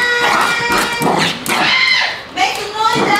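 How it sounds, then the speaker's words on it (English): A dog whimpers and yips in short, high whines at close range while several people talk loudly over it. "Make a noise, dog!"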